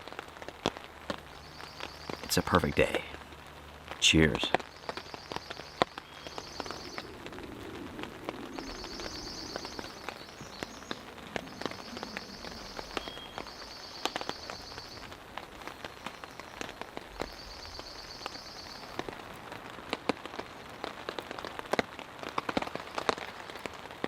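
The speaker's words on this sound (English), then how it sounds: "As it stands right now, it's a light rain." Light rain patters steadily on a campsite amid fog, with scattered drips and taps close by, occasional birdsong in the background and a brief spoken remark.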